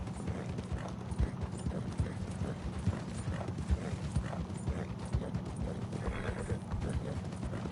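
Horse hooves clip-clop steadily on the ground as a rider travels through a town in Red Dead Redemption 2, a close, even walking rhythm over a low ambient rumble.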